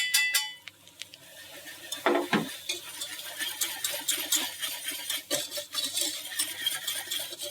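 Flour is stirred into browned, nutty butter in a pan for béchamel, with soft scraping and clinking of a utensil against the pan and a faint sizzle, close and irregular.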